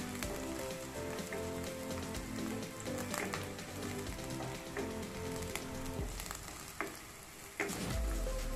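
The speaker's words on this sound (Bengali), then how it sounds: "রসুনটা ফ্রাই করে নিয়ে" Garlic frying in oil in a pan for a restaurant-style garlic chicken, a steady dense sizzle close up with occasional stirring clicks, no voices.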